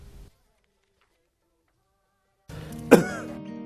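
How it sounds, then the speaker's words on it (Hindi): After a stretch of silence, a single sharp cough or throat-clear bursts out close by over a low background hum. "कब से खांसी है इनको?"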